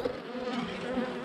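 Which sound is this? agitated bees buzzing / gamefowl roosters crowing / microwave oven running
agitated bees buzzing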